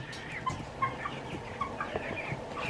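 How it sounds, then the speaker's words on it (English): A coop of about ten chickens, two or three roosters among hens, clucking in short irregular bursts of overlapping calls, fairly close and without talk. "I think I got at least 2 roosters in here, maybe 3"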